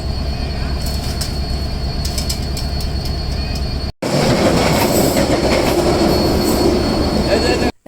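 The Chilahati Express rumbles along on the Dhaka–Bogura route, heard from on board: a loud, steady roar of wheels and carriage noise with rhythmic clatter, briefly cut before resuming.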